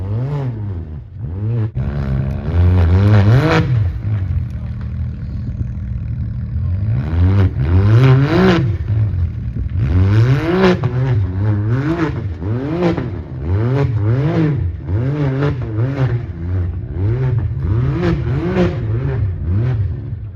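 An off-road race car at King of the Hammers climbs a rocky trail, its engine revving hard in repeated rising and falling bursts, loud and close, with brief lulls between throttle pushes.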